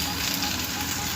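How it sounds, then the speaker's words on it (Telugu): Taro root slices frying over medium flame in a non-stick pan while being stirred, a dense, continuous close-up sizzle that stays loud and even throughout. "మీడియం ఫ్లేమ్ మీద కలుపుతూ ఇలా ఫ్రై చేసుకోవాలి."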